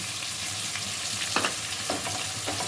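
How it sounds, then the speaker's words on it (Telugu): Tomato pieces go into a pan of frying fish for a brinjal and fish curry, setting off a loud, steady sizzle with a few soft clatters from stirring, close up and with no talking. "ఇప్పుడు టమాటా ముక్క కట్ చేసుకుని టమాటా ముక్కలు వేసుకోవాలి"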